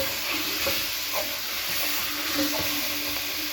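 Vegetables and spices being stirred as they fry in a pot for vegetable soup, a steady close hiss and sizzle with soft scraping stirs, no voices.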